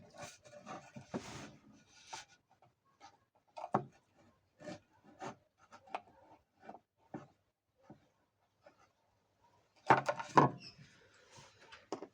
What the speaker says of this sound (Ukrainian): Прикручуємо шуруп.